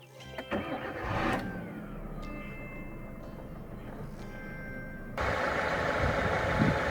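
2011 Hyundai Accent Era with a 1.4 petrol engine and manual gearbox cranking briefly, then catching and settling into a steady idle, followed by a louder rise in engine noise near the end.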